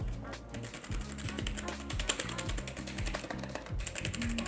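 Fingers type on a cheap full-size computer keyboard, giving rapid, irregular clicks and clatter under steady low background sound, with no pauses.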